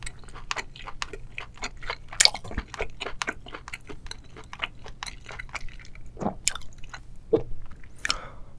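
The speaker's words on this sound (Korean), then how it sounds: "이 떡조개도 한번 먹어볼게요" Chewy, gum-like Korean clam meat from a wine-steamed seafood boil is chewed close up in repeated wet, squishy bites with soft clicks, steady rhythm and no talking.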